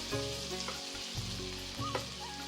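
Turmeric powder added to hot oil with softened tomatoes while cooking chana masala, a steady close sizzle with light stirring throughout, no talking.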